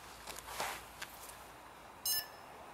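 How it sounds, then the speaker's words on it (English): A Blade 350 QX quadcopter drone gives a faint standby beep sequence: a couple of soft tones early on, then one brighter, sharper beep near the end against a quiet background. "They give the standby beep."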